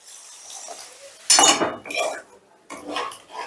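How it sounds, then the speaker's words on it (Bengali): Masala being stirred in a pan for a Bengali sim (flat bean) makhani, with close metal clinks and scraping in short bursts separated by brief pauses. "মশলাটা একটু নেড়ে চেড়ে মিশিয়ে দিচ্ছি"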